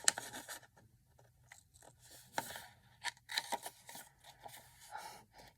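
Paper being trimmed for a steampunk folio, close crisp snips and scraping cuts in uneven bursts, with soft rustling between strokes and no talking.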